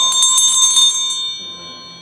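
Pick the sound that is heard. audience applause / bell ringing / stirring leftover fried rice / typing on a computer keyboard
bell ringing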